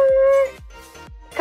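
A small dog whimpers in a sink after a wash, giving a few high, thin whines and yips in quick succession, close by.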